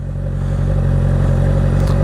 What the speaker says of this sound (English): video of the exhaust installed and what it sounds like